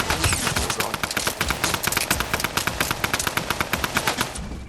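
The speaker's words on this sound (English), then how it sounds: "Is that a Tommy gun or an SMG?" Rapid sustained automatic gunfire from a Tommy gun or SMG in the video game Fortnite, a dense, unbroken stream of loud close shots rattling for several seconds.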